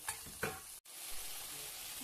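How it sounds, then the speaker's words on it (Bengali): Spice masala is stirred and fried with fried potatoes and pointed gourd for a paneer curry, with two quick scraping stirs, a brief cutout, then a steady soft sizzle close by and no voices. "মশলাটা কষানো হয়ে গেছে, এখন এতে দিয়ে দিব ভাজা আলু আর পটল"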